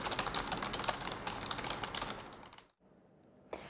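Ten-finger touch typing on a computer keyboard makes a fast, dense patter of key clicks, close and steady. It stops abruptly, a short silence follows, then it resumes briefly.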